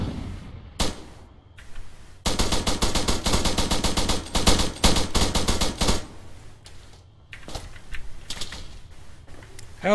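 Airsoft guns fire in a rapid sustained burst of sharp clicking shots for several seconds, with scattered single shots before and after, close and loud in an outdoor skirmish.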